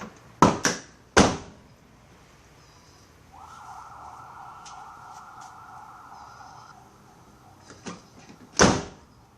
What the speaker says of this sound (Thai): เอาให้ประตูปิดปิดได้สนิทแล้วก็แน่นที่สุดนะครับ